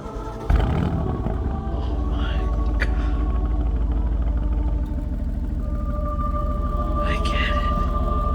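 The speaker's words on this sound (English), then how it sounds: "there's like this 3-second delay while the car boots up, and then the V8 just roars to life" A 2019 Aston Martin Vantage's 4-liter twin-turbo V8 catches with a sudden burst and settles into a loud, deep, steady rumble, with a few brief higher blips on top.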